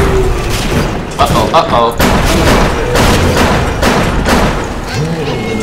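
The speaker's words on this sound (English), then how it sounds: "He is throwing grenades!" Grenade explosions in the video game BioShock: heavy, rumbling booms and crackling blasts fill the whole stretch, loud and near, while a player talks and exclaims over the top.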